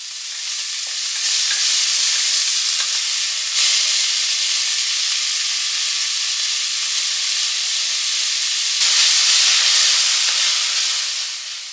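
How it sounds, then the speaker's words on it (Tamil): Chopped spinach sautéing with onions in a home kitchen pan, a loud, steady hissing sizzle that swells slightly at moments, with a few faint stirring knocks underneath and no speech. "நம்ம சின்னதா கட் பண்ணி வச்சிருக்க ஸ்பினேச்ச வந்து இதில போட்டுறலாம். போட்டுட்டு அதுவும் நல்லா வதங்கணும்."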